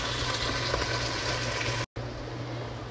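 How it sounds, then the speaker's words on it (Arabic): Water poured into a hot pan of frying chicken for biryani, giving a steady loud hissing sizzle with a broad rushing texture throughout, broken by one brief silent gap near the end. "راح احط هنا شوية مية واضيفها كمان"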